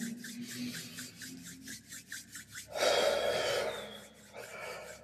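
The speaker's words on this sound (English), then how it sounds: "gently rub your palms together" Palms rubbed together during a breathing meditation, first a series of soft rhythmic swishes, then a longer, louder continuous rasp of skin on skin, close and quiet.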